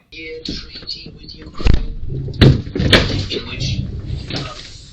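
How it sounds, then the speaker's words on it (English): An interior door swings shut with a couple of dull thuds and a latch click, heard amid faint background voices in a quiet room. "it sure sounds like that interior door is closing"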